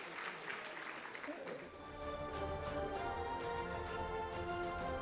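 Conference audience applauding panelists at a corporate tax session, a dense broadband clatter of many hands in the opening second or so, then giving way to a steadier, more tonal sound.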